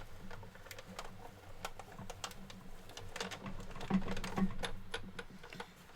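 A die-cutting machine cranked by hand with two cutting pads during cardmaking, giving a steady run of low rolling and grinding with light clicking and tapping on top, fairly close, with no voices.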